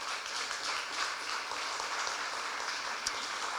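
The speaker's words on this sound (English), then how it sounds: "Give him another round of applause." Audience applause at a FrankTalks community talk event, a steady, dense wash of clapping that holds for the whole stretch at moderate loudness, with no talking over it.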